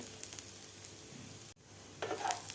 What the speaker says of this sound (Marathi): काजूसुद्धा आपल्याला एक ते दीड मिनिट कांद्याबरोबर व्यवस्थित भाजून घ्यायचे आहेत